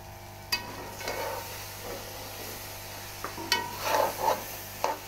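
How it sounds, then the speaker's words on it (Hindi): Carrot halwa with almonds and pistachios being mixed in a pan, soft scraping and stirring strokes with a few sharper clinks of the spoon, close and fairly quiet over a low steady hum. "अब इसको मिक्स करेंगे।"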